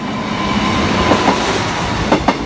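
A passenger train, unit 153 317, rumbles in with loud, steady wheel noise and a few rhythmic clacks over the rails near the end.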